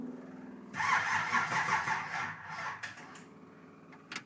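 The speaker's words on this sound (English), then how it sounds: "Motor turned over. Seems like the starter engaged and disengaged how it should" The starter of a Chevrolet Impala with a five-speed conversion cranks briefly and the engine catches, giving a loud, close burst of mechanical whirring that fades, followed by a sharp clank near the end.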